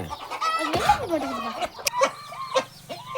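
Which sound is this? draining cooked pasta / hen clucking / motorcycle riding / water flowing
hen clucking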